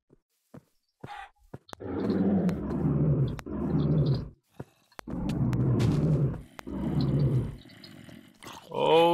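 Zombies in modded Minecraft growl in a series of long, loud, low rumbling groans with brief pauses between them. Sharp clicks and a rising squeal cut in near the end.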